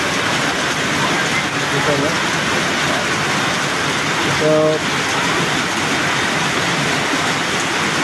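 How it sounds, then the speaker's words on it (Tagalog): Heavy rain pours steadily in a dense, constant roar, with people talking briefly underneath. "Ayan, lakas na ulan"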